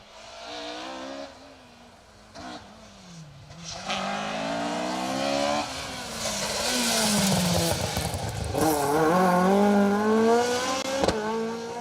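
A Mark II rally car, car number 20, drives an asphalt stage of Rally Ceredigion 2023, its engine revving hard and rising through repeated gear changes, growing louder as it approaches, with no talk.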